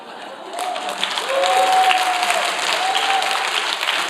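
A church congregation applauding their pastor during a worship service, a broad steady clapping that swells after the first second and holds throughout, with a voice speaking faintly beneath it.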